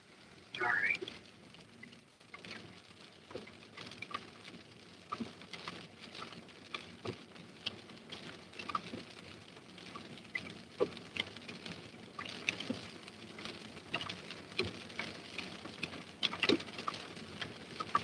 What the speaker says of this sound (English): Intercepting in a storm here.